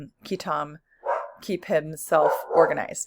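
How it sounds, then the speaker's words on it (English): A dog barks in the background of an indoor recording, a few short yips mixed in with steady close talking from a woman. "Sorry about the dog."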